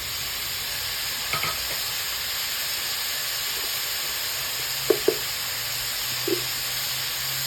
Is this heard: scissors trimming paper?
no